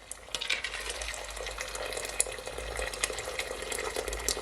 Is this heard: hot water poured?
yes